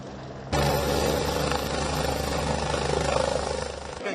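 Helicopter lifting off from Belagavi, a steady loud rotor and engine roar that starts abruptly and holds with a throbbing drone throughout.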